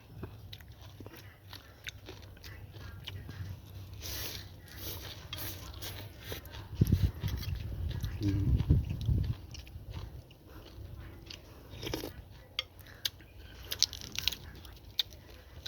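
Someone bites and chews homegrown peanuts close to the mic: soft repeated crunches and moist chewing, with a louder burst of crunching in the middle and scattered clicks afterward, otherwise quiet.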